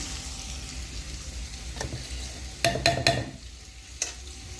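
Chopped onion frying in a pan, a soft continuous sizzle close by, broken by a few sharp scraping stirs of a utensil against the pan.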